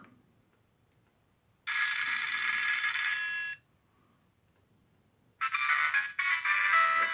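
A Nokia mobile ringtone plays through a weak phone speaker from the sound settings, in two loud bursts separated by a short silence. The second burst is choppy and cut off, with no speech over it.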